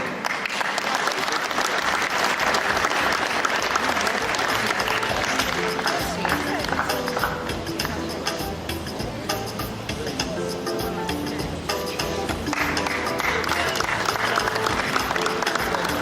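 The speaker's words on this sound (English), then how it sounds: "Please a round of applause for the editor of Ovation International Magazine, Mr. Michael Effiong." Conference audience applauding as a panelist is introduced: a long, loud, continuous wash of clapping from a large hall with music playing underneath and a voice speaking over it.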